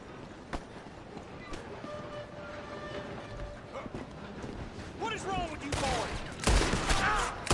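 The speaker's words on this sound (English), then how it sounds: "We have to stop this train." A moving train in the Red Dead Redemption 2 video game rumbles and clatters steadily, with squealing metallic tones and gunfire bursts rising toward the end, under voices talking.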